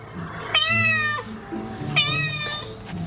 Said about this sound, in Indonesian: Keluar urusan kucingnya guys.